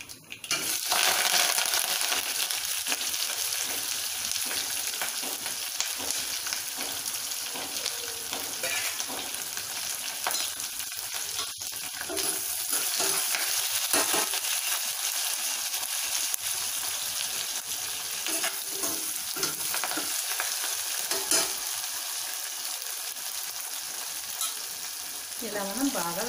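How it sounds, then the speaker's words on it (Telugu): Onions, green chilies and curry leaves frying in a hot oil tempering for mild sambar, a loud, continuous close-up sizzle with faint crackles that persists steadily and settles slightly toward the end. "అది పోపు వేగిపోతుంది కదా, ఇందులో వేసేసుకుందాం."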